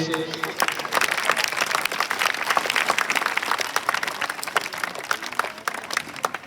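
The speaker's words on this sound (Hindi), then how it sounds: "बच्चे तालियों से" Schoolchildren applauding at a staff farewell ceremony at a government senior secondary school in Rajasthan, a lively crowd of clapping that swells and continues steadily, with a voice over a loudspeaker briefly at the start.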